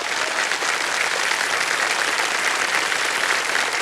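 Steady, dense studio-audience applause for a contestant on the Hindi quiz show Kaun Banega Crorepati, loud and continuous throughout with no voices on top.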